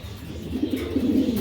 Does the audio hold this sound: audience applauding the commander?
no